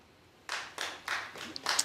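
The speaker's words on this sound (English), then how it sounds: "Clap if you think Lennox would win" A studio audience at a TV talk show claps in several short, faint bursts after a brief quiet start, with scattered claps and no talking.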